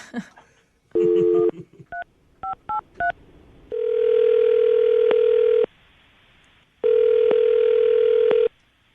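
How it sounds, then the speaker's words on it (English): A series of telephone keypad tones beeps out in quick succession, followed by two long, steady ring tones separated by a pause. "I'm going to dial the phone number right now."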